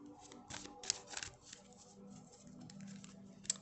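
Archangel Michael oracle cards being shuffled and pulled, soft close riffling and card slides in quick bursts with a few sharper snaps, quiet throughout.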